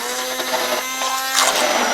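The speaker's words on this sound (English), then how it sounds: "So now we're just going to get the immersion blender" Immersion blender whirring through apple butter of baked apples and spices in a crock pot, a steady close motor whine with brief shifts in pitch as it churns, loud and continuous with no talk.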